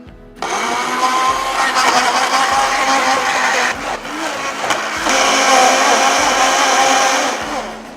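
A blender whirs loudly and steadily as it purées coriander and ginger into a green paste, briefly dipping in pitch a couple of times as the load shifts, running close and unbroken.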